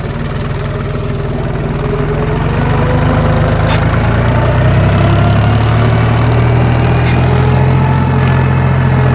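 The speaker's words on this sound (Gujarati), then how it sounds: "હવે અર્જુનભાઈ ટ્રેક્ટર ચલાવી રહ્યા છે" A tractor engine runs loud and close as it is driven on a farm, a steady, unbroken droning rumble that holds throughout.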